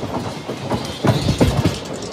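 A MEMU passenger train rolls along the rails between Rajahmundry and Bhimavaram, with a steady rumble and a run of rhythmic clickety-clack wheel beats that grow louder near the end.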